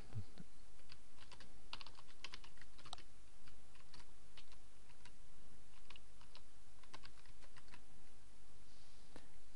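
Steady, fairly close clicking of computer keys as a plugin name is typed into a WordPress plugin search, continuing for the whole stretch with irregular bursts of keystrokes and no talk.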